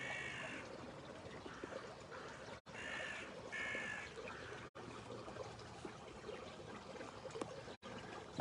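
Crows cawing among other birds at sunrise beside the Sea of Galilee, repeated harsh calls over a steady wash of outdoor ambience with soft trickling water, moderately distant, with brief cuts in the sound.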